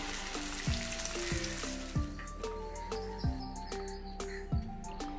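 Fish pieces fry in hot oil in a pan for a Kerala Malabar fish biryani, a steady close sizzle with a repeating cluster of tonal chirps and clicks running through it.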